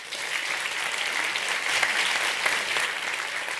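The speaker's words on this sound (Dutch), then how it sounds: "Mag een groot applaus voor Eugenie McNack." A hall audience at a Dutch public discussion on prevention and the healthcare crisis applauds a speaker in a steady, dense wash of clapping that holds evenly throughout, with no voices over it.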